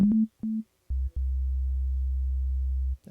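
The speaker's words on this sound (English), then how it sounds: "it's just a pure sine wave" Pure sine tones from a MIDI instrument in Pro Tools: two short steady beeps at one pitch, then a lower, longer sustained hum cut briefly before holding for about two seconds, all clean and isolated.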